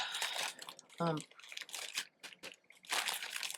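Crisp plastic crinkling and rustling comes in bursts, close up, with a short voiced sound in between.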